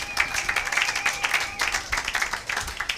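A church congregation applauds in steady, continuous clapping, fairly loud and close, with faint voices and a sustained tone underneath.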